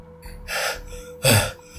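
Someone out of breath after running gasps twice, a shorter breath followed by a sharper, louder intake, heard close and alone without speech.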